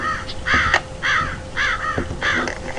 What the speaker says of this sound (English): Oh, shut up, crows.